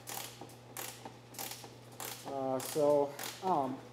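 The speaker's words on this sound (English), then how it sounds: "with the wrench, it's long enough where I can reach the nut and feel it to put the wrench in." Metal wrench ratcheting on a nut during a snorkel install on a Toyota Land Cruiser, a series of close, quiet clicks and short squeaky creaks over a steady low hum, with no talking.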